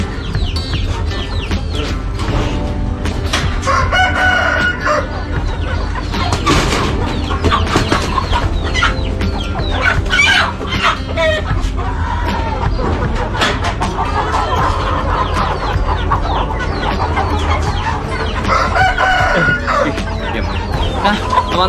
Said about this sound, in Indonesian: di depan saya ini udah ada ayam Bangkok